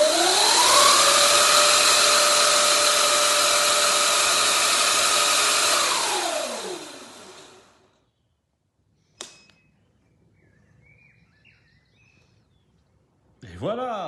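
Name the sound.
electric motorbike motor calibration spin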